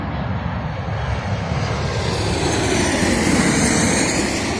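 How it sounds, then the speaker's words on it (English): An airplane passes over near an airport, a loud, broad roaring jet wash that builds steadily and fills the whole clip, close overhead with no speech. "y'all gonna hear airplanes passing through every so often"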